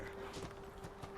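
A horse's hooves clip-clop in a steady walking rhythm in a post-apocalyptic action game, quiet and close over a faint constant hum, with no talking.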